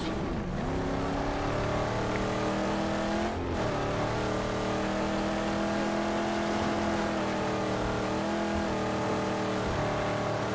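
Car engine in the Mad Max video game roaring under a nitrous boost, a loud steady harmonic drone that climbs and holds through the whole stretch with a brief dip midway.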